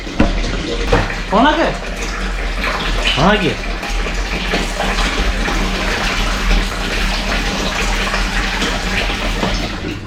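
A thin stream of water runs steadily from a low-budget car washer hose fed by a booster pump through a long pipe, giving a continuous trickling splash while people talk over it.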